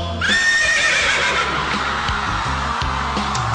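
A person's voice imitates a horse's neigh, with one long, shrill, wavering whinny that trails off.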